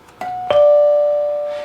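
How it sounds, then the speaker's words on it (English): A Rittenhouse RCM4 radio intercom master station's built-in doorbell rings once, a bright chime that rises sharply and then sustains and slowly decays, loud and close with nothing else heard. "is because it's got the doorbell built into it"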